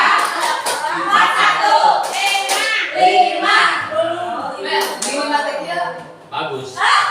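Children clapping a counting pattern in a classroom game, rhythmic group claps mixed with steady spoken counting and light laughter.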